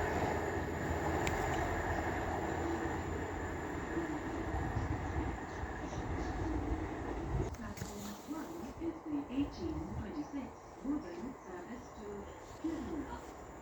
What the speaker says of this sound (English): will be a pairing of 195s running from Leeds to Manchester Victoria, with 195006 on the front and 195011 bringing up the rear